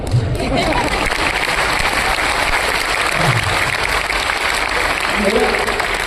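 An audience at a Hindi motivational talk claps and cheers in a loud, sustained burst of applause filling the hall, with crowd voices mixed through it.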